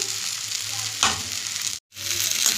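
Spice paste with tomato sautéing in a pan for a rohu fish curry, a steady loud sizzle with stirring scrapes that briefly cuts out before resuming.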